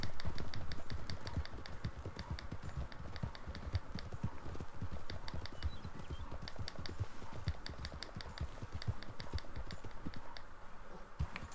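Horse hooves clip-clopping steadily in Red Dead Redemption 2, a brisk, continuous rhythmic patter of hoofbeats at moderate distance with no talking.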